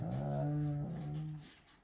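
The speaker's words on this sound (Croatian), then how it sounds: "on ovdje zavija, boli ga uvo" An injured dog with a sore, wounded ear whimpers and howls in one drawn-out, wavering cry that trails off, close and fairly loud, with no talking.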